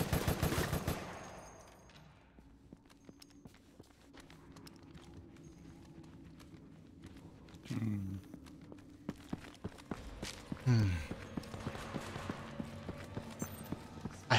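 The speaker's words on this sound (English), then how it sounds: "I got a heavy machine gun." A heavy machine gun in the Resident Evil: Operation Raccoon City video game fires rapid, steady bursts of shots over a long stretch, mixed with footsteps and other game sounds at moderate loudness.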